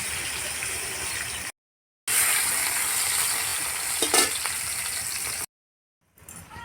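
Pieces of katla fish sizzle lightly in hot oil in a pan, a loud, steady frying hiss with a brief clatter of stirring, broken by two short silent gaps.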